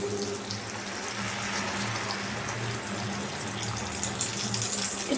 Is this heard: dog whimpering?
no